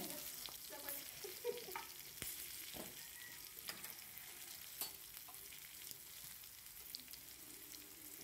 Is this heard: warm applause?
no